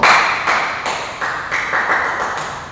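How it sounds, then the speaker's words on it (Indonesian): A classroom group applauds in loud, close, rhythmic unison claps that fade slightly toward the end. "Jadi boleh kita kasih tepuk tangan dulu?"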